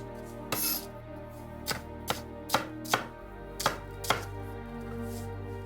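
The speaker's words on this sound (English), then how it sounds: "The reason why we're cutting the onions down is basically to speed up the process when it comes to caramelization" A knife chops onions on a board for a classic onion soup, about eight distinct sharp cuts at an irregular steady pace, close and clear with no talking.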